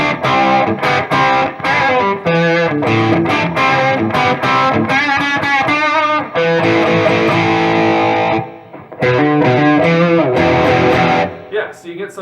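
Distorted electric guitar playing a rock riff with chords and single notes through Seymour Duncan Pearly Gates pickups on a 1991 Les Paul, warm and driven, up close with brief pauses.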